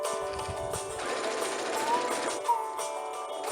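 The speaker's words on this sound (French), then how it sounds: "Allez, rendez-vous à la machine à coudre." A domestic sewing machine runs steadily, stitching pinned fabric pieces for a summer bag, with a soft mechanical whir and rapid needle clatter, close and unaccompanied by speech.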